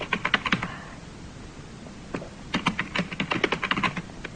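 Keys clatter on a computer keyboard in quick bursts of close, crisp taps, with a short pause between the flurries and no voices.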